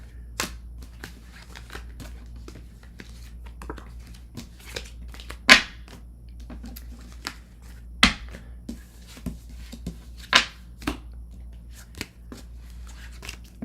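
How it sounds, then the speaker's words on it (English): Tarot cards are shuffled by hand in a quiet room, with soft papery riffles and several sharper snapping bursts at irregular intervals, heard alone. "I have all the cards picked up before I start shuffling"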